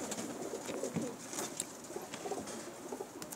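Rare-breed pigeons at a fancier's loft coo faintly in soft, repeated low calls, with light rustling and distant background noise around them.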